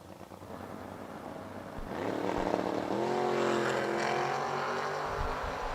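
Drag race at World Wide Technology Raceway between an 89 Cavalier and a Monza, engines rising from a distant rumble to a loud sustained roar as the cars launch and pull away.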